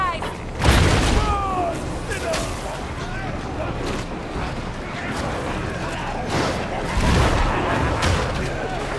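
An explosion in the Warhammer 40k Darktide video game, a deep boom near the start followed by rumbling battle noise and scattered gunfire, with a second swell later, while voices talk over the din.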